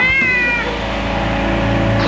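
A cat meows once in a bright, clear tone near the start, followed by steady mechanical noise and the hum of a BattleBots arena.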